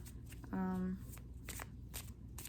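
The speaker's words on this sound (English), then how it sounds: "let's pull some tarot cards" Tarot cards are riffled in one short quick burst of papery fluttering, fairly close and crisp, followed by light handling and soft rustling in a quiet room.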